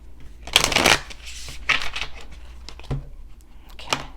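Tarot cards are shuffled by hand in loud, close riffling bursts, a long flurry followed by shorter shuffles and a few soft taps, with no talk over them.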